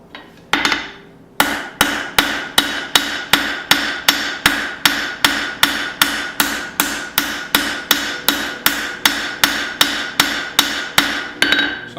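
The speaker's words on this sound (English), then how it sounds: "So I'm just kind of forging" A hammer strikes hot steel flat bar while forging blacksmith's tongs, delivering about twenty sharp, loud, evenly spaced blows in a steady rhythm after a brief opening hit.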